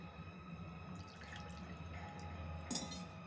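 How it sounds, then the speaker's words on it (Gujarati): Water is poured into a nonstick kadai while making lapsi, a faint continuous trickling splash that stays even throughout, with a slightly brighter spatter near the end. "હવે આપણે એની અંદર 2 કપ પાણી એડ કરીશું"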